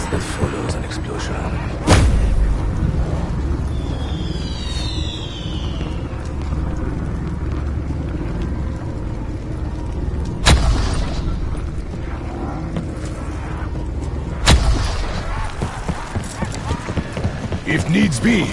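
Explosions in the Call of Duty video game: three sharp, loud blasts break through a steady bed of battle noise, while a voice talks over much of the scene.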